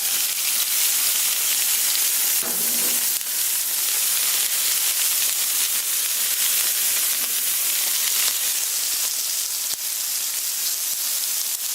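Onions sizzle on a Camp Chef flat top griddle, giving a loud, even hiss that runs throughout with a few faint clicks and scrapes.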